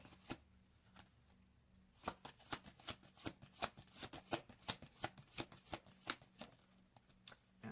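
Tarot cards are shuffled by hand close up, a run of crisp riffling snaps in an uneven rhythm, sparse at first and then quick and dense, quiet and alone.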